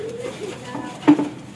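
A large pigeon coos softly in low, rounded notes, with a brief louder burst near the end against a quiet room background.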